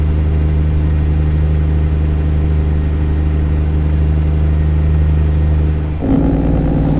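Kenworth W900 truck engine with a C-Mods sound mod in American Truck Simulator, a loud, steady low diesel drone that shifts abruptly near the end as the revs change.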